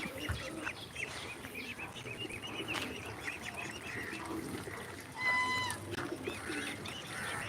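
Pigeons on a farm, soft cooing and other bird calls under a steady outdoor background, moderately close, with one brief higher chirping call partway through.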